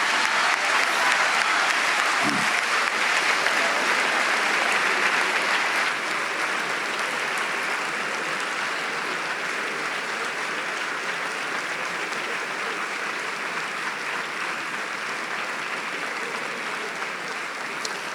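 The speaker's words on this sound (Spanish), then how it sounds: "no te puedes quejar de los aplausos, Cebrián." Sustained audience applause fills a conference hall at a political-values event, steady and dense at first and easing slightly in volume as it continues for nearly twenty seconds, with no speech over it.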